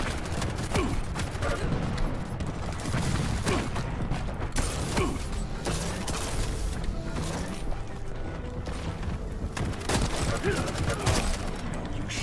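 Rapid bursts of weapon fire rattle continuously in Quake Champions, with dense clattering shots and mechanical clanks under a player's voice talking throughout.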